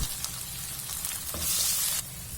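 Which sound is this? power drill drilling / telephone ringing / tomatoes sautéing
tomatoes sautéing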